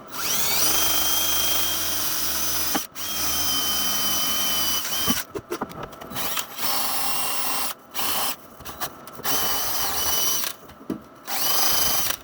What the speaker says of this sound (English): the entire purpose of me taking my brush to this stuff after is to clean all the weld through primer off where I'm about to weld